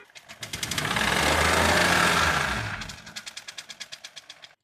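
Light revving of a 2016 Maruti Suzuki Baleno engine after a service: a smooth rise and fall of engine roar, then a return to a close, regular ticking idle, with no voices.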